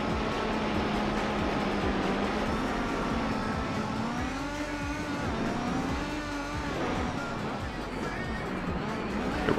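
Race car engine in Gran Turismo 4, a steady droning whine that rises and falls with gear changes as the car is driven, loud and continuous, with someone talking over it.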